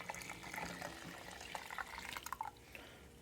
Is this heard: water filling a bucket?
yes